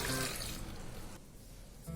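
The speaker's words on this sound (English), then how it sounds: "But before that, I'm gonna add 1 glass of water." Water poured into a pressure cooker holding cut tomatoes in a home kitchen, a short splashing rush that tapers off within about two seconds, close and moderately quiet.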